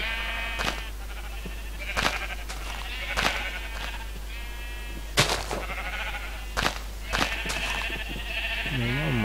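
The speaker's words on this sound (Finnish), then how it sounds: "Se on lampaita alla." Minecraft sheep bleat repeatedly in a pen below in the video game, several short nasal bleats spaced irregularly, fairly loud and close, with a low steady hum underneath.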